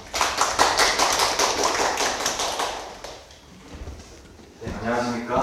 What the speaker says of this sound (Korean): 박수로 한번 맞이해 주십시오.